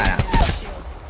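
A short, loud burst of rapid gunfire in Apex Legends, several close shots fired in quick succession that fade within about a second.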